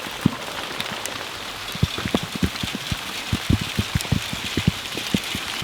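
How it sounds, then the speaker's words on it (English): Hail falling on a tiny suspended house ball: hard, irregular knocks and pings from individual hailstones strike the shell over a steady patter, close and fairly loud, with no voices. "Those chunks of hail aren't friendly."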